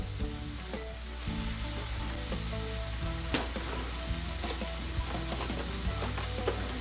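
A garlic clove hits a hot pan and sizzles steadily and loudly, a continuous crackling fry with no voices over it.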